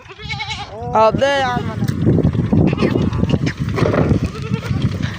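Punjabi desi goats bleat close by in a village, a couple of loud wavering calls early on, followed by rustling and shuffling of the herd while someone speaks briefly.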